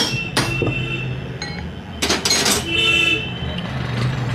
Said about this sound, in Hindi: और इस रोटर को हम बाहर को निकाल लेंगे। तो ये रोटर को हमने निकाल दिया है।